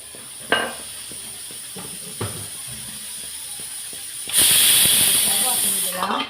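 A kitchen pressure cooker vents steam. A few faint clinks and knocks come first, then a loud, sharp hiss bursts out and holds for nearly two seconds before it cuts off.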